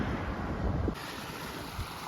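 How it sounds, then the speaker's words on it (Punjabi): Waterfall water rushing beside a hill road on the way into Himachal, a steady broadband roar that drops in level partway through, with no voices. "ਪਹਿਲਾ ਪਾਣੀ ਦਾ ਝਰਨਾ ਮਿਲਿਆ"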